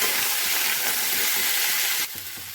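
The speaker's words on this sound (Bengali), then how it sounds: "এবার এই আলু ভাজার তেলেই কাঁচকলাগুলোকে একটু অল্প করে ভেজে নেব" Steady, close-up sizzling and crackling of raw green banana pieces frying in hot oil, a dense hiss that drops slightly near the end; no voices.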